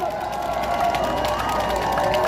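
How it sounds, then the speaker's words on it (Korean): A crowd at an outdoor political rally near Osan Station claps and cheers in a continuous, moderately loud wash of applause, with a steady tonal hum running underneath. "큰 박수 부탁드리겠습니다"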